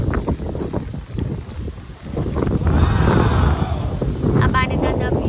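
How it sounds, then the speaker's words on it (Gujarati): Wind blowing across an open farm field, a steady broadband rush with microphone buffeting that runs through the whole stretch, loud and close. "બહુ સરસ પવન આવે છે"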